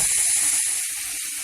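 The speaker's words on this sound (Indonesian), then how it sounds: "Panaskan minyak, kemudian masukkan bumbu yang sudah dihaluskan." A steady, loud sizzle of ground spice paste frying in hot oil over high heat, continuous bright hissing with faint clinks underneath.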